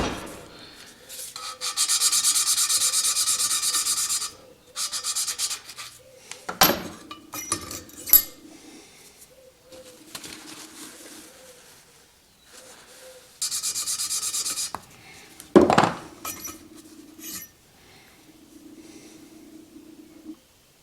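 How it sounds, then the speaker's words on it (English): Engine valves on a Continental G176 are lapped into their seats with compound, giving bursts of gritty rubbing and grinding separated by pauses, clinks and light taps, close and moderately loud. "Here a guy can easily see what our valve lapping has done on the seats."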